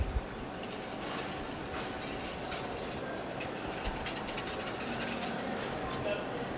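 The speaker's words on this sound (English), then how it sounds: "We're going to mix this up." Cider vinegar dressing is stirred in a bowl for an arugula salad, giving a steady, continuous scraping and swishing with faint clinks throughout.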